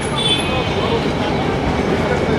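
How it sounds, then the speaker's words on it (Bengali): A passenger train on the Chuadanga to Dhaka line pulls out of Kushtia station, a continuous close rumble and rattle of carriages rolling steadily, with a voice talking over it. "বন্ধুরা কুষ্টিয়া থেকে ট্রেনটি ছেড়ে দিয়েছে তো এগিয়ে যাচ্ছি সামনের দিকে"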